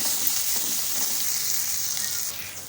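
Ginger, green chili and curry leaves sauté in a pan for a Tamil-style tiffin, giving a steady, even hiss of light frying that holds throughout without pause, close and moderately loud, with no talking.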